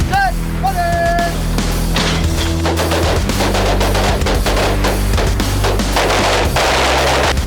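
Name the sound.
FK Field Pistol gunfire, five shots, from a video game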